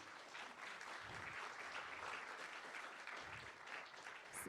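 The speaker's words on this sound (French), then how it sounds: "On va les applaudir très fort" An audience at an academic careers event for new PhD graduates applauds. The clapping sounds soft and somewhat distant, a continuous patter of many hands at an even level that lasts several seconds.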